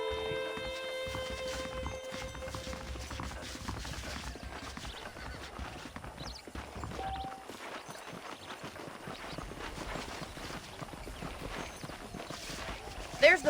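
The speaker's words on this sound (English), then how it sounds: "The horses are saddled up over here." Horses clip-clop and whinny in the Western video game Red Dead Redemption, hooves thudding steadily at walking pace under continuous game ambience and music, with a voice talking over it.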